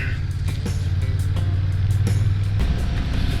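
A 2021 Honda Rebel 1100 motorcycle under way gives a steady, low engine drone with wind rush, a sustained hum that drops off near the end.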